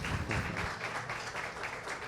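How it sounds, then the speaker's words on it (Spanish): An audience applauds in quick, rhythmic unison, steady and fairly faint, as if heard from some distance, with no one speaking over it. "Aplauso."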